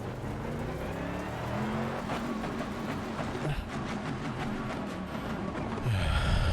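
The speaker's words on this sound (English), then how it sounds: "Engine on." A racing car in Assetto Corsa Competizione fires up and revs on the grid before a race, its engine note rising and falling in steady pulses with a brief sharper burst near the end, heard up close with no talking.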